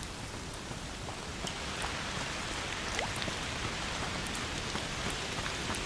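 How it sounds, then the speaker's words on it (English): Steady rain pouring in the video game A Plague Tale: Requiem, a dense even hiss of drops on surfaces with faint scattered patters, constant and fairly quiet with no voices. "Foul rain."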